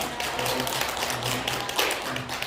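A church congregation at an Easter Sunday service gives a short round of faint, scattered clapping, soft and distant throughout.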